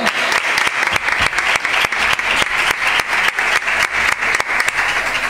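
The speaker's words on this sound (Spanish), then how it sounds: "Un aplauso." Loud, close audience applause at a live zambomba flamenco performance, a dense crowd clapping with a rhythmic pulse of sharper claps running through it, sustained throughout without speech.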